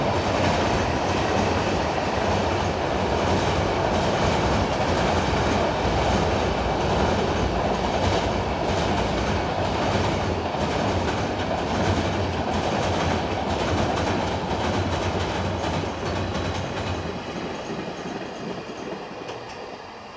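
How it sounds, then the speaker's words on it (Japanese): Freight train 5055 bound for Fukuoka Freight Terminal on the Kagoshima Main Line rolls past with a loud, steady rumble and rattle of wagons that holds for most of the pass, then fades toward the end. "5055列車福岡貨物ターミナル行きです"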